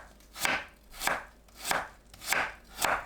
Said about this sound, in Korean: 무는 한입 크기로 얇게 썰어주세요